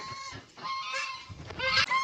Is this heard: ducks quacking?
yes